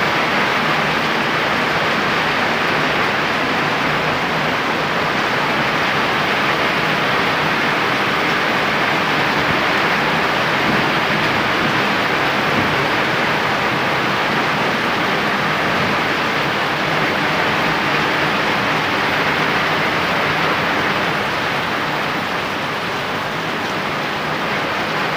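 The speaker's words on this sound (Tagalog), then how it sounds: "Buhos ang ulan" Heavy rain pours down at a resort in a steady, dense, hissing roar that stays loud and unbroken the whole time, with no voices over it.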